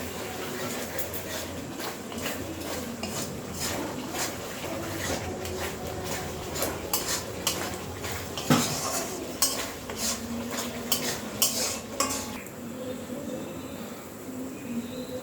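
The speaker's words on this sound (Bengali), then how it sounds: "কিছু বাদাম ফ্রাই করে নিচ্ছি তেলে" Peanuts frying in oil in a pan while being stirred, a steady sizzle under many quick scraping and clinking strokes of a utensil against the metal, close and continuous for about fifteen seconds.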